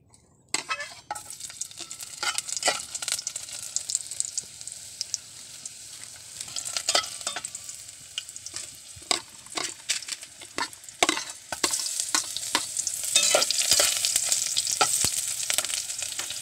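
Oil heats in a pot for clam adobo in coconut milk, giving a steady close sizzle with frequent crackling pops that grow denser and louder toward the end.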